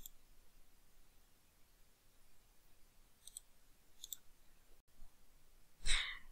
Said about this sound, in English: I'll just click Create.